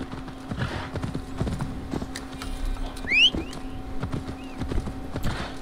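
Horse hooves clip-clop at a steady gallop in Assassin's Creed Valhalla, rhythmic thuds over a constant low hum, with a brief whinny-like sweep midway.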